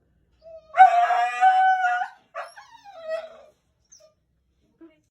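A Siberian husky getting a shot lets out one drawn-out, wavering howl up close in a quiet room, followed by a few shorter whining yelps and then silence.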